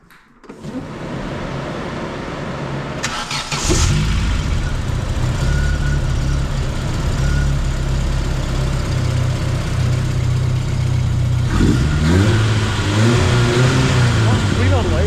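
A Vauxhall Nova 1.6 injection engine cranks and catches, then idles and revs steadily up close, with a rough, uneven tone and a surge near the end.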